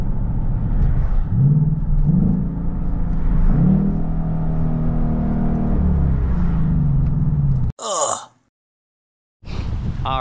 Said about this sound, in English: it's kind of nice when you just downshift and like automatically revs up